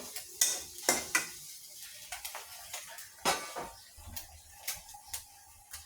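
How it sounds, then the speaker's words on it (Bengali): Crispy fried fish being lifted out of a pan onto a plate: scattered clinks and scrapes of a utensil against the pan and plate over a faint background sizzle, in irregular close taps. "একটা প্লেটে আমি উঠিয়ে নিচ্ছি এভাবে"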